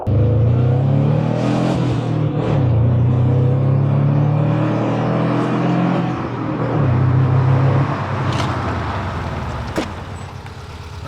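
A Subaru GC8 runs a braking test pass, its engine droning steadily at close range for several seconds with shifting rumble and revving, then easing off toward the end.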